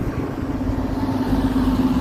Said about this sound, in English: There goes the bus.